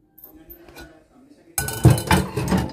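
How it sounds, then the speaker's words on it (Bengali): A frying pan and saucepan are handled in a kitchen: faint clinks of metal cookware come first, then louder, rough scrubbing and clattering of the pans, with a little talk nearby. "frying pan R সসপ্যানটি মাজবো"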